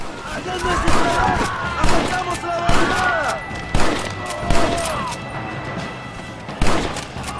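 Gunfire in the Western video game Red Dead Redemption during a mansion assault: loud, booming shots repeated about every second, with thuds and a steady background din of game sound underneath.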